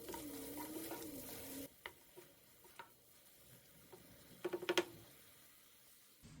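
Vegetables sizzling and being stirred in a pan with soy sauce, vinegar, green chilli sauce and tomato ketchup for restaurant-style chilli paneer; quiet frying hiss, then a few sharp utensil clinks and scrapes.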